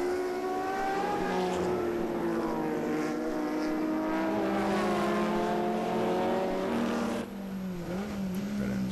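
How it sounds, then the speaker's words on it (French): Race car engine at the Le Mans Classic, heard while overtaking a Porsche 908, a loud sustained onboard drone whose pitch climbs and shifts steadily, with a sudden gear change near the end. "en train de doubler une petite Porsche 908 sur le côté là"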